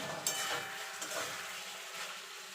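Potatoes and spices being stirred in a pan for a Bengali fish curry with eggplant and lentil dumplings, a soft scraping and sizzling that runs steadily throughout with light clinks of the spoon.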